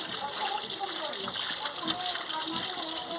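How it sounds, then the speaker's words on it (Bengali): Cut pangas fish pieces being washed in water, with continuous splashing and sloshing close by while someone speaks over it. "ভালো করে ধুয়ে নিচ্ছি"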